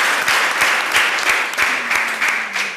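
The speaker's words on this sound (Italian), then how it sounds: "merita un applauso" Lively audience applause in a television studio show, loud and close with rhythmic surges of clapping, and a faint tone running beneath it in the latter half.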